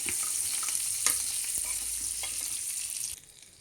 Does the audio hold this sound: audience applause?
no